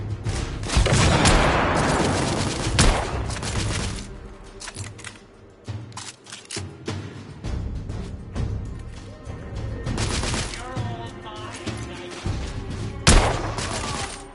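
Bursts of gunfire from the video game The Order: 1886 crackle in rapid volleys with heavy booms, loud and close, pausing briefly midway before another barrage, with no talk over it.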